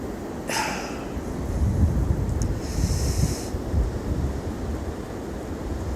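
Strong gusts roar across the microphone during a windstorm in Oswego, a steady low rumble with brief hissing bursts, loud and continuous with no talking.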